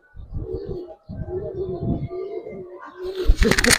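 Homing pigeons at a home loft coo in repeated low throaty rolls, close and steady, with a brief burst of wing flapping and chirps at the end.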